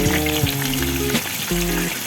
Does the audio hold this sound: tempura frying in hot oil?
yes